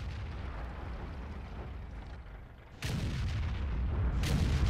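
Tank cannon fire in World of Tanks lands as a heavy, close boom that cuts through a low rumbling battle backdrop, followed by a second sharp blast moments later.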